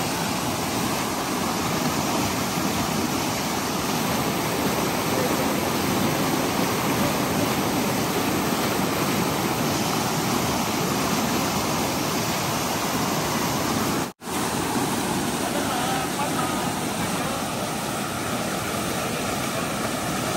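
A waterfall pours down in a steady, dense roar that stays loud and unbroken throughout, cut by only a momentary dropout near the end, with no voices over it.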